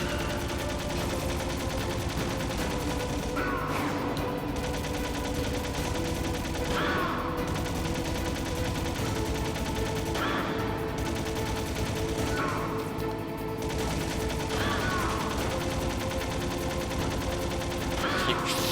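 Gunfire in the stealth game Metal Gear Solid, played on hard mode during the finale: a dense, continuous rattle of shots with periodic brighter bursts every couple of seconds, steady and loud throughout, with faint talk underneath.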